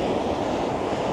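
Incoming tide waves wash onto a beach, a steady, close rushing roar of surf with no pauses or voices.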